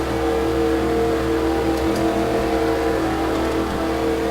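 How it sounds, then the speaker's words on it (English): Race car engines roaring at a steady loud drone in a NASCAR video game as the cars come off the final turn at Hidden Valley, with no talk. "here he comes off the final turn and the long straightaway, but Alan Smith is going to win here at Hidd"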